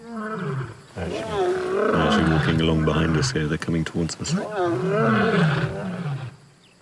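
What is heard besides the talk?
lion roaring at dawn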